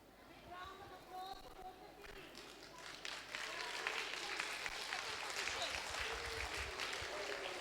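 A school audience applauds prize winners, with clapping building from about three seconds in and continuing steadily, mixed with chatter and talk from the room.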